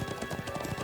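Horse hooves in the video game Trails of Cold Steel II clip-clop in a quick, even rhythm, a steady trotting pattern heard close with no talking.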